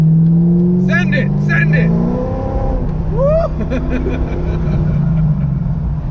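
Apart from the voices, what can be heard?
C5 Corvette coupe accelerating hard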